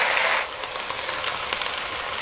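Shredded cabbage hits a hot pan for a Thai stir-fry with fish sauce, bursting into a loud, close hiss that settles into a steady, crackling sizzle with no voices.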